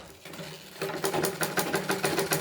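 A sewing machine stitches the lining of a blouse front, starting after a short pause into a steady, fast, close rhythmic chatter of the needle with no voices.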